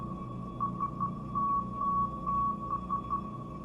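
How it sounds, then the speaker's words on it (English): Sonar-like electronic beeps in a trailer tap out an irregular Morse-code-style pattern of short and long tones, clear and steady over a low ambient hum. "Like a Morse code distress signal."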